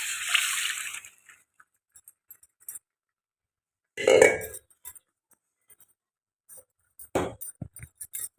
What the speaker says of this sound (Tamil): புளி தண்ணி, தக்காளியெல்லாம் கரைச்சி வச்ச முடியுங்க, அதை எடுத்து ஊற்றிக்கிறேங்க